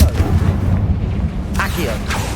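A Confringo fire spell blasts in the Hogwarts Legacy video game, a loud booming burst with rumbling low-end debris that rolls on over the short span, with a voice briefly heard.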